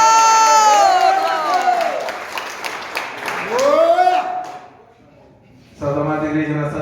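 A church congregation applauds and cheers to welcome an evangelist, with clapping, whoops and shouting voices filling the room before a short lull and then a single voice speaking over the tail of the applause.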